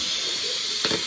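A pressure cooker hisses steam in a brief, close burst, a steady airy rush with a sharper puff near the end.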